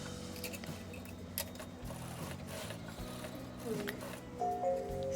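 A sewing machine stitches blouse fabric in short mechanical bursts of whirring and clattering, with pauses and small clicks between runs, close-up and fairly quiet.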